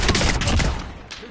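A gun fires in Call of Duty Warzone, a dense, loud burst of rapid shots for about a second that then trails off into quieter echoes.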